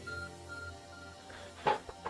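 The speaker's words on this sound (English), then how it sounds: "Your ARC phone is beeping." An ARC phone in the game Pokemon Legends: Arceus gives short electronic beeps near the end, after a steady tonal hum of game music, with no talking.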